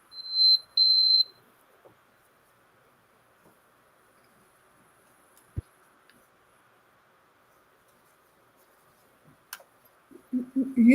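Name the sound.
electronic beeping sound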